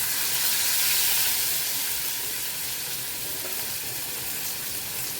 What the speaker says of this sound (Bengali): হালকা একটু ভাজি করে নেব।